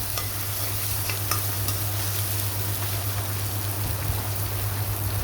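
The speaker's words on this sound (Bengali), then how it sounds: "আদা রসুন বাটাগুলো হালকা তেলে ভাজে নেব যেন কাঁচা ফ্লেভারটা চলে যায়।" Ginger-garlic paste fries in a little oil in a pan, a steady close sizzle and crackle with faint stirring, with a low hum underneath and no talking.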